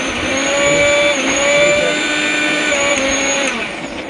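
A Cello Grind Master 500W mixer grinder motor running steadily at high speed, a loud near whine with sustained tonal hum and slight wavering pitch, fading a little at the end with no talking.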